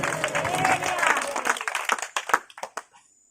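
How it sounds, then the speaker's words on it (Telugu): A church congregation claps in praise during a worship service, a thick burst of applause that thins into scattered, separate claps and fades out within a few seconds. "చప్పట్లు కొట్టి దేవునికి స్తోత్రాలు చెప్పండి"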